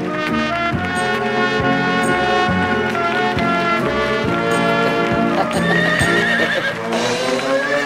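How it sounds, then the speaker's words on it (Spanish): A horse whinnies loudly and repeatedly, its neighs riding over a steady clip-clop of hooves, close and prominent, with musical tones mixed in at a festive wedding scene. "Por el fondo aparece Guido montado en el pintarrajeado caballo de su tío."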